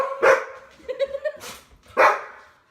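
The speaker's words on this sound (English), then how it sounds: "I'm going to have to pause and quiet up my dogs." Indoor dogs bark loudly and close by in three sharp bursts with a short yip between them, heard alone without talk.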